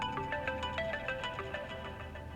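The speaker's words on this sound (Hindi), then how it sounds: "गांव से फोन है।" A phone ringtone plays steadily for a couple of seconds, a repeating electronic melody of bright tones at moderate loudness with no talk over it, as a call comes in from the village.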